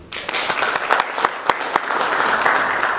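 Round of applause from an audience at a Zimbabwean civic discussion event, steady dense clapping with a few sharper individual claps standing out, fairly loud and continuous throughout.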